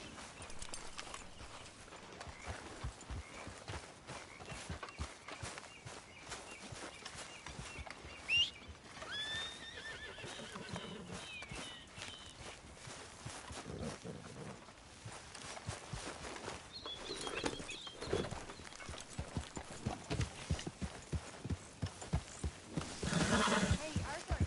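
Horse hooves clip-clop steadily through a Red Dead Redemption 2 scene, joined by a few whinnies and snorts, with ambient outdoor noise and some background voices speaking.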